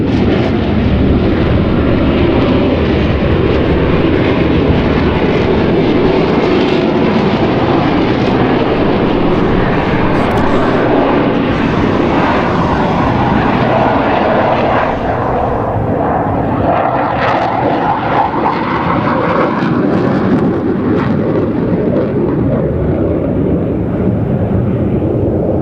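A jet aircraft on full afterburner flying a slow speed loop at an air show, a loud, continuous roaring rumble that swells and shifts in tone as it passes, sustained for the whole stretch.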